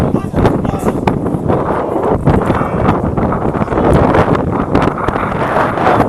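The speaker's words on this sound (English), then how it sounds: "The wind is very, very strong." Strong wind buffets the microphone at an outdoor football match between Coventry United and Lichfield City, a steady broadband roar with gusty rumbling that persists loudly and close throughout.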